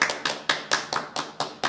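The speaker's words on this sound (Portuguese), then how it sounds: "Merece palmas" Steady rhythmic hand clapping after a psychology talk, about seven crisp, evenly spaced claps close by, like a small group clapping in unison.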